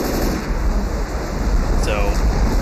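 Heavy rain in Left 4 Dead 2's Hard Rain campaign, a loud, dense, steady hiss of downpour with wind-like roar, continuous throughout and unbroken by talk.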